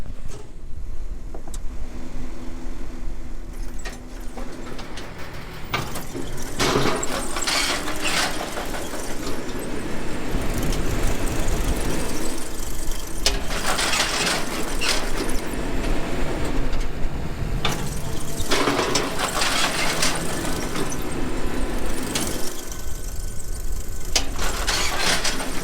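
A tractor engine drones steadily and loudly while planting in the field, a continuous rumbling hum with periodic rattling surges and no talk.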